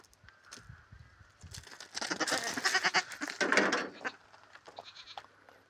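A two-month-old male goat kid bleating in a farm setting, several wavering close-up bleats strung together in the middle with quieter moments before and after.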